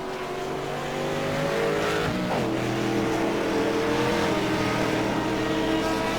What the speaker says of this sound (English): That big big piston tone of a V8, American V8